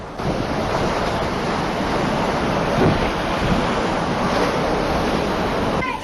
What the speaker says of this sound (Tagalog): rumaragasa na ang alon na dulot ng storm surge